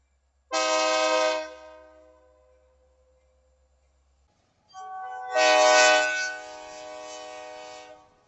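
ELS 400 locomotive on a northbound train sounds its multi-chime horn in two blasts, a short one then a longer, louder one, fading as it passes with a low rumble underneath.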